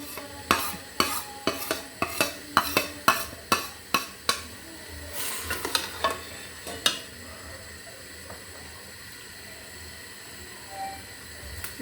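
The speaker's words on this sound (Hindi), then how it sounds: "अब इसको भूनते हैं अच्छी तरह से" A spoon scrapes and stirs dal chana masala as it is sautéed in oil in a pan, in about a dozen brisk rhythmic strokes with a faint sizzle beneath. The stirring then slows and fades to quieter scrapes.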